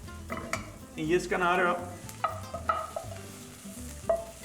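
Beans tipped into a pot of sautéed onions and aromatics, giving a loud burst of sizzling followed by stirring scrapes and clinks, with someone talking over it.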